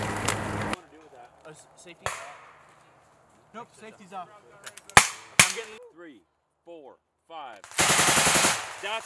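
A machine gun fires sustained bursts during University of Alaska ROTC squad tactical training, with a loud burst at the start and another near the end, plus sharp single cracks between as people talk.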